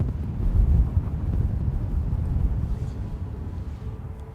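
Strong gusting wind from Storm Bert buffets the microphone at Gatwick Airport, a loud, continuous low roar that swells and eases over several seconds with no other clear sounds.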